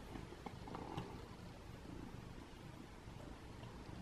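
A cat purrs in a low, continuous rumble close by, faint and steady throughout the short stretch, with no speech over it.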